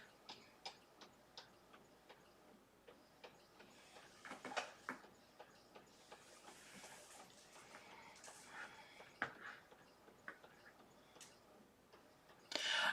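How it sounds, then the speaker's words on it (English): A tank inkjet printer runs nearby with a steady run of quiet ticks and clicks, punctuated by short mechanical whirs and a louder feed movement near the end. "Can you guys hear my printer?"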